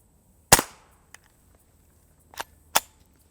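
A suppressed pistol fires a single sharp, close report, followed later by two further quieter metallic clacks of the action, with no talking.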